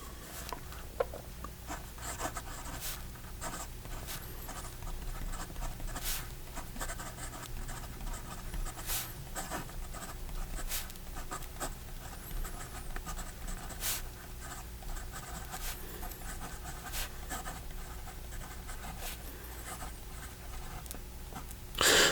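Pilot Justus 95 fountain pen nib scratching across paper on its hard setting, a steady close soft rasp of strokes with small ticks and pauses, continuous and fairly quiet.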